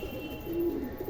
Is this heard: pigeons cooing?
yes